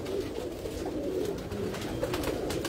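Heera Laal breed pigeons cooing softly and continuously, close by, over a steady low background hum with no talking.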